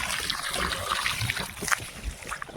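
Irrigation water trickles and splashes into a field basin on a farm, a steady close babble of flowing liquid with small splatters and no talk over it.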